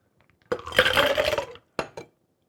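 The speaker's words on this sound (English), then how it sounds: "Just dump it right in there. Do a shake." A golden milk margarita is poured into a cocktail shaker and shaken, giving a sloshing, clinking rush of metal, ice and liquid, followed by two short knocks.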